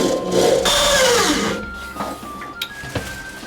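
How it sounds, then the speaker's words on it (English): A drill drives a drywall screw through drywall and a metal stud into wood behind it during a closet restoration: one sustained, loud whirring burst, then quieter scattered clicks and taps. "it should drill through the drywall, in through the metal stud, and then attach into the piece of wood"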